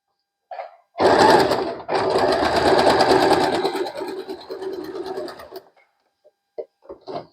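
An Usha Janome sewing machine stitches a buttonhole without an automatic buttonhole foot, whirring loudly for a few seconds with a brief break, then stopping, followed by faint scattered small sounds.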